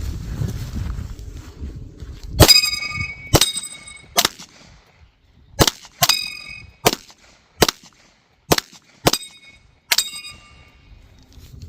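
Pistol shots from an SA Platypus and a CZ Shadow 2 at an outdoor range, each a sharp crack with a ringing metallic clang of steel targets. About ten loud, close shots come in an uneven string with gaps between them.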